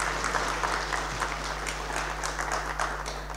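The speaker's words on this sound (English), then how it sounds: "Can we give them a big round of applause?" A lecture hall audience gives a round of applause, continuous dense clapping at fairly even loudness with a low steady mains hum beneath.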